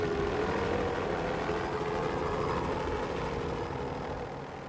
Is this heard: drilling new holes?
no